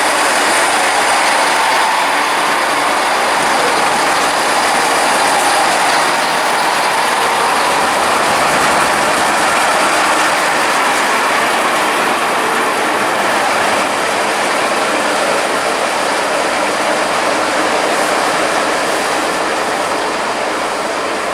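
A passenger train bound for London Paddington from Ealing Broadway runs steadily on the rails, a loud, continuous interior rumble and hiss with faint rhythmic clatter throughout, and no talking.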